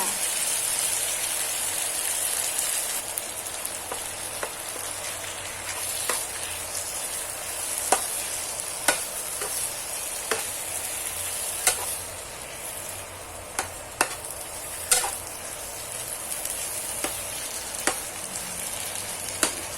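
Cucumber and two eggs stir-frying in a pan, a continuous soft hiss with scattered sharp spatula clicks and taps spaced several seconds apart.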